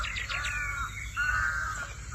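A crow caws outdoors in an orchard in Indonesia, harsh descending calls in quick succession followed by a longer drawn-out caw, fairly close against low background rumble.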